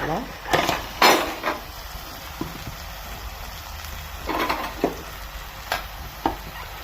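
Ginger garlic paste sautéing with potato masala in a pan, with several sharp spoon scrapes and clinks against the metal over a low background sizzle and a steady high hum, close up and without speech.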